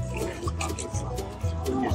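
Water sloshes and drips as a gold pan is swirled in a shallow stream while panning for gold near Wickenburg and Vulture City, Arizona, a close, steady watery swishing with a voice faintly underneath.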